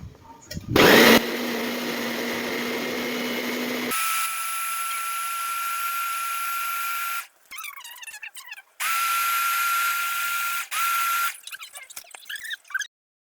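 A kitchen blender whirring hard as it crushes carrots, cucumber and sambong leaves for juice, running in several loud bursts with short stops between, and a voice speaking briefly during the pauses.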